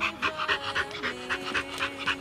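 An American Bulldog pants steadily, with rapid breaths in an even rhythm close by, while a sustained tonal hum runs underneath.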